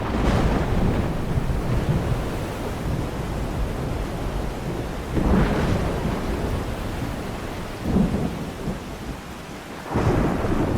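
Thunderstorm with heavy rain in the Arizona desert: steady rain hiss throughout, broken by several deep rumbling thunder rolls at irregular intervals, loud and close, with no voices.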